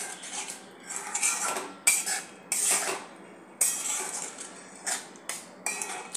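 Chicken stirred with yogurt in a metal pan, a spoon scraping and clinking against the pan in irregular strokes with sharp clanks, close and moderately loud, no talking.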